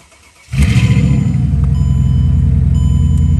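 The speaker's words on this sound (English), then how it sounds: "I guess we'll give her a start and see how she sounds" A loud, oil-burning Mercedes car engine turns over and catches, then settles into a loud, steady rumbling idle up close.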